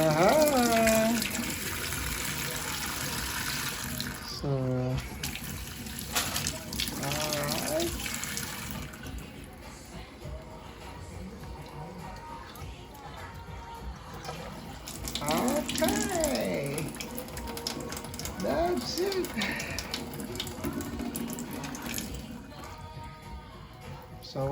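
Water runs from a newly repaired kitchen tap, a steady splashing stream into the sink that rises and falls in strength, with a person talking over it now and then.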